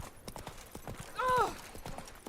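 Horse hooves clip-clop in a steady rhythm during video game play, moderately close, with a brief whinny-like tone partway through and speech around it.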